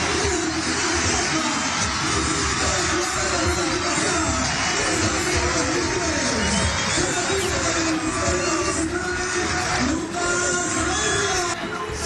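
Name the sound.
stadium crowd ovation for Salvador Cabañas's substitution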